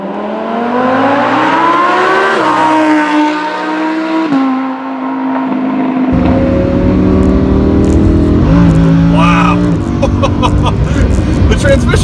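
A Lamborghini Huracan accelerates hard through higher gears, its engine note climbing in pitch and dropping at each quick shift, loud and close, with someone talking over the later part.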